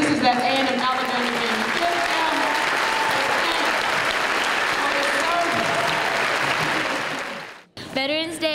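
Audience applause fills a school Veterans Day event, a dense, sustained wash of clapping from a large crowd that runs steadily and then cuts off, with a voice speaking over it at the start and again after it stops.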